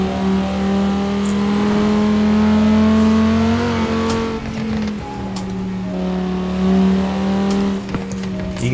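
Quadra V-Tech car driving in Forza Horizon 4, a steady loud engine drone with smooth revs rising and falling and a slight shift midway, continuous and close, with no talk.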